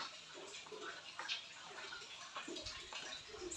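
Tap water runs steadily into a basin in a home kitchen, a soft continuous splashing with light irregular drips and clinks, heard close and moderately quiet.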